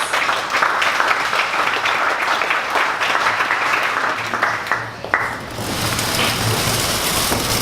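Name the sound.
audience applause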